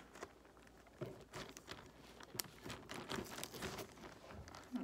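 Soft plastic crinkling and rustling close by as a plastic bag holding water is closed, with small handling noises and light taps scattered throughout.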